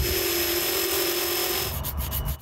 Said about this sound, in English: Screwing and sanding.